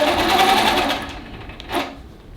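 A sewing machine runs a quick burst of basting stitches on a quilt, loud and close, whirring steadily before slowing to a stop with a brief final whir; no talk.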